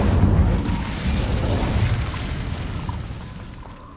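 Incendio fire spell from Hogwarts Legacy, a loud whooshing burst of flame that roars at the start and slowly fades over a few seconds.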